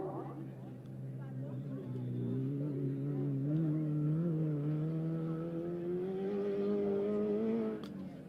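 Hunter Ribmaster desert race car fitted with a new Toyota motor, running flat out at the Finke Desert Race, a steady loud engine drone rising and falling in pitch for the whole stretch, with voices faintly under it.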